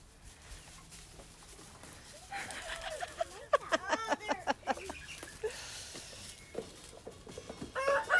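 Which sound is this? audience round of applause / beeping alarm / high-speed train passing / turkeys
turkeys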